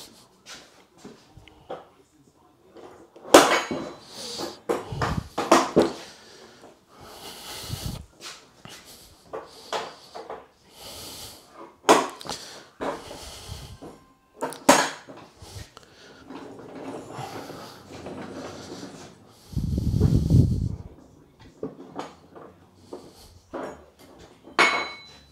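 Workbench legs wobbling and knocking against the floor, irregular hollow thuds and clatters in scattered bursts, some sharp and loud, with quieter scraping between them.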